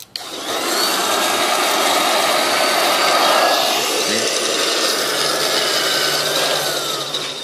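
A New-Tech 4-inch rotary fabric cutter runs steadily with a loud, constant motor whir and a high blade whine, starting up at the outset and holding even, with no talk.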